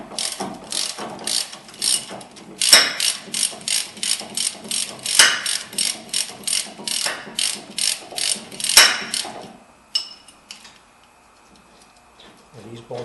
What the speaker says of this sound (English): Once you break them loose with your breaker bar, you can just use a ratchet